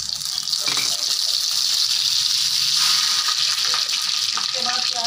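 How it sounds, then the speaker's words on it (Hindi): Mustard seeds splutter and crackle in very hot mustard oil, a loud, dense sizzle studded with rapid popping bursts that carries on without a break. "थोड़ा सा दूर होकर डालना होता है क्योंकि बहुत तेज तेल में बहुत तेजी फूटने लगती है ना।"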